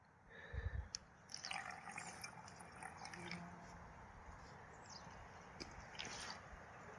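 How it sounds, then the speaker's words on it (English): Cold creek water trickles and drips close by as a bottle is filled at a trail water source, a soft steady burble with a few brief louder splashes near the start. "I'm at Mersa Creek and getting some nice cold water."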